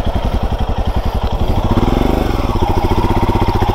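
A Royal Enfield Himalayan motorcycle engine, running again after a breakdown repair, thumps nearby in a steady rhythmic pulse, with a slight rise in pace partway through.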